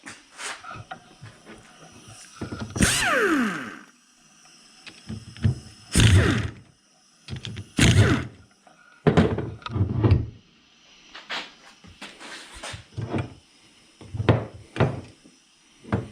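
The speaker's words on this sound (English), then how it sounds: "The first thing is we have to separate it from the bracket." Metal clunks and scrapes as a Nissan Altima brake caliper is pried apart from its bracket, a series of separate knocks and thuds with brief gaps, fairly close and alone without talk.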